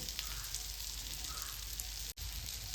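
Pomfret fish frying in hot oil in a pan, a faint, steady fine crackle and sizzle heard close up with a brief dropout near the end.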